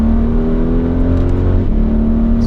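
A 2020 Audi RS Q8 engine and exhaust accelerate with a steady, droning growl heard from inside, the revs rising smoothly and dipping briefly before holding on a continuous, loud hum.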